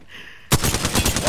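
Rapid automatic fire from the Flatline rifle in a video game, a quick burst of sharp, close, loud shots in an even stutter, starting abruptly after a brief quiet moment.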